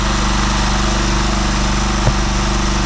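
A tractor engine idles close by with a steady, throbbing low hum that runs unbroken throughout, with one brief knock partway through.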